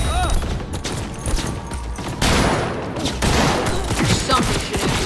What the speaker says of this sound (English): There's something shooting here.